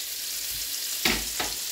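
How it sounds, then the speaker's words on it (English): Butter with ginger and garlic sizzles steadily in a pot, a bright continuous hiss punctuated by two brief louder crackles as the pan is stirred. "Now I'm going to add my butter into the pot now for the lax."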